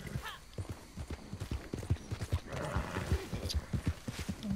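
Horse hooves clip-clop in Red Dead Redemption 2, a steady close rhythmic beat of hoof strikes with a brief whinny early on and a low voice talking underneath.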